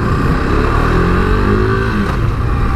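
A 2017 KTM RC390 motorcycle accelerates hard past traffic, its single-cylinder engine revving loud and close with rising pitch, a steady continuous roar throughout.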